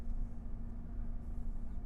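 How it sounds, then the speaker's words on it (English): A 2022 Nissan Frontier pickup truck idles with a low, steady engine rumble and a constant hum, moderately quiet and unchanging throughout, with no talking. "now I have my truck running."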